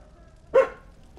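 A single short dog bark rings out in the video game Bloodborne, loud and close against a quiet background, with a faint second sound trailing after it.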